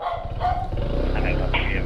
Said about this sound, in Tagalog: May natahol na aso.